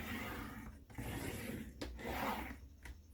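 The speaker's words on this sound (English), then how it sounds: "I'm going to score first of all at 2 1/8 of an inch all the way down." A paper scoring tool drags along a crease line in cardstock, making a steady close rasping rub that breaks briefly near the middle and again toward the end, with no voices.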